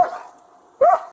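A dog inside a car gives two short, loud barks close by, with a brief gap between them.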